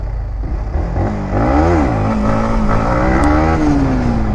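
Motorcycle engine revving during a wheelie test with traction control engaged, rising and falling through several loud close revs before settling into a steadily pitched drone, with no talk.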